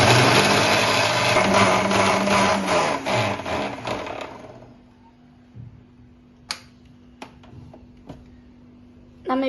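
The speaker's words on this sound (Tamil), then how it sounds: "இப்போ இதை நம்ம மிக்ஸியில போட்டு நல்லா அடிச்சுக்கலாம்." A kitchen mixer grinder blends watermelon pieces with sugar, a loud steady whirring motor for about four and a half seconds, then switches off, leaving a quiet room with a few light clicks and knocks.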